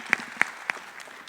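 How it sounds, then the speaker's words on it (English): Light applause from a small audience at a morning panel, a few separate claps standing out at a slow, uneven pace over a soft wash of room noise, fairly quiet overall. "Let's give her a round of applause, please."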